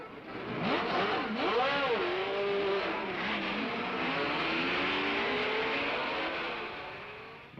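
Race cars at the 1970 Monza 1000 km endurance race. Engine notes rise and swoop as cars scream past, with several overlapping howls at a moderate distance.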